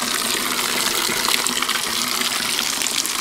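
Water pours and splashes steadily into a natural waterfall pool in South Cebu, a loud, close, continuous gushing rush with no voices over it.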